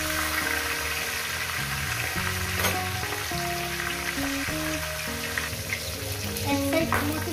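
Fish heads fry in hot oil with a steady, close sizzle and crackle, while a few sharper clatters from the pan or utensil sound now and then; nobody speaks.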